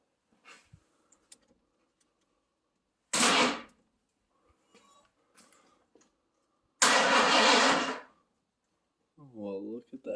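A 1981 Ford engine cranks for the first time in 14 years: a short burst of starter grind, a pause, then a longer, louder crank that nearly catches, with quiet gaps between and a brief voice at the end.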